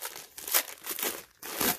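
Recycled plastic bags crinkle and rustle as they are unwrapped by hand, with several bursts of crackling that come in uneven waves and short pauses between them, close up and fairly loud.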